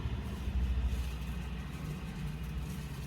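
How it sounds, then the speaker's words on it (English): A truck passes on a city road in Atlanta, a steady loud low engine rumble and road noise filling the whole span, swelling slightly near the start, with no talk. "I'll wait for this truck to pass me real quick."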